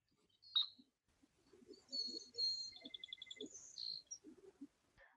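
Tail-feather sound of an Anna's hummingbird at the end of its courtship dive, outdoors: faint, sharp high chirps and a short rapid pulsed buzz amid quiet background.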